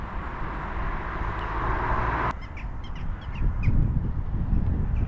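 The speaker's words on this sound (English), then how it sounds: "Seagulls enjoying the flooding, black-headed gulls." Black-headed gulls call over flooded fields, a few harsh, short cries standing out above steady wind and broadband outdoor noise.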